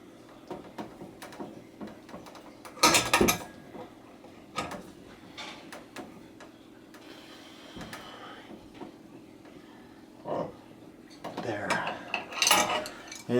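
A bike headset cup is tightened onto the head tube with a homemade tool, giving irregular metallic clicks, scrapes and clunks in short bursts with quiet gaps.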